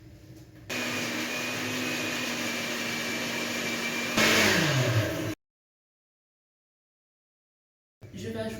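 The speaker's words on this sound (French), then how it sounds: "Je vais mixer le tout à vitesse maximale." Blender running at maximum speed mixing a raw pear and cocoa filling, a loud steady motor whir that rises briefly in pitch, then stops dead, followed by silence.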